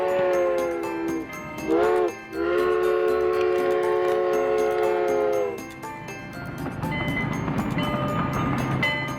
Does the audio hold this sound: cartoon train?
yes